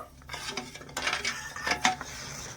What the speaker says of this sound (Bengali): আর দিয়ে দেব এক বাটি জল নেড়ে ছেড়ে চিনিটা গলিয়ে নেবো